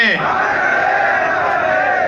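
Large crowd at a memorial statue unveiling chanting a tribute slogan in unison, a loud, sustained mass of voices following a lead caller, close and filling the space.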